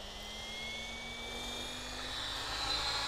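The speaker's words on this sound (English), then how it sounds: "So I'm spooling up here." An RC helicopter spools up with a steady electric whine and a slowly rising pitch, close and continuous, with no voices.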